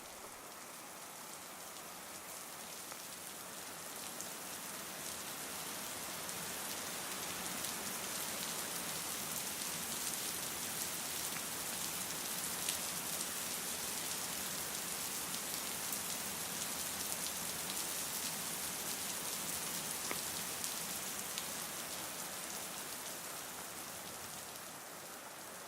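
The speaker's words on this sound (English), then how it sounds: "Drop by drop, rain falls on the land and falls on the vegetation." Steady rain falling on land and vegetation, a dense, even patter that builds gently at the start and then holds for the rest, with no other sounds.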